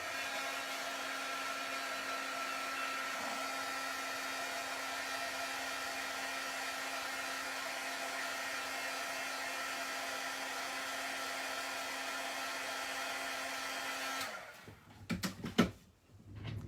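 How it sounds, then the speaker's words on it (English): A heat gun blows with a loud, steady whirring roar for most of the stretch, then cuts off, followed by a few scattered knocks and clatters. "let me just zap this with my heat gun real quick"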